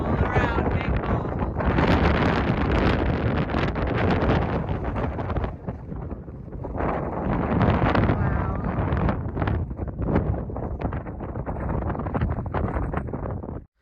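Strong wind roars across the open summit of Big Bald on the Appalachian Trail, buffeting the microphone loudly and almost without pause, with only a brief easing around the middle.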